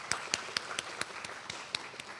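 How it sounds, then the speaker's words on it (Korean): Scattered hand claps from a conference audience applauding a speaker after a panel talk, sparse and faint individual claps at an uneven rhythm, with no voices over them. "다시 한번 우리 신광섭 부장님께 큰 박수 부탁드리겠습니다."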